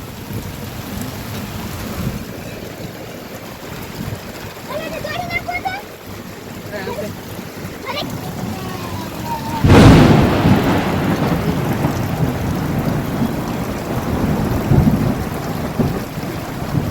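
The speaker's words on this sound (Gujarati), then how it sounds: "વરસાદ પડે રાખ્યો છે ધોધમાર" Heavy monsoon rain pours steadily and close, and a loud crack of thunder breaks in near the middle and rumbles on under the downpour.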